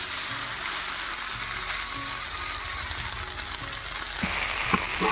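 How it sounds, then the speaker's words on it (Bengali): Chopped onions and onion paste fry in hot oil in a Bengali fish curry, giving a steady, dense sizzle that holds through the whole stretch, with a few faint clinks near the end and no talking. "পেঁয়াজগুলো হালকা লাল মতো ভেজে নেব।"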